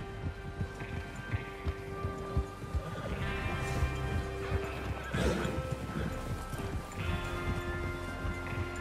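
Horses in the Red Dead Redemption 2 video game give a whinny amid steady clip-clop hoofbeats, with galloping movement and background game ambience, fairly faint overall.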